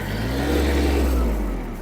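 Kubota B-72, a Japanese mini tractor, with its engine running steadily in low first gear at minimum speed, a continuous low, near drone with no talk over it.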